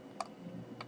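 Two faint, sharp computer mouse clicks sound about half a second apart against quiet room noise.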